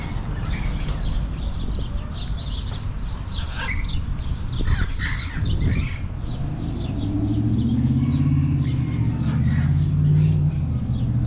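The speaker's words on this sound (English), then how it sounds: "All kind of birds over here." Many birds squawk and caw around an outdoor fruit stand, harsh calls repeating over a steady background rumble that swells louder toward the end.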